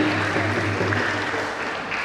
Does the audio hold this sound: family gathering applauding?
yes